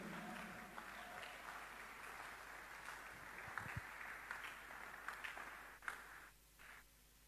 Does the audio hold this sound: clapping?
yes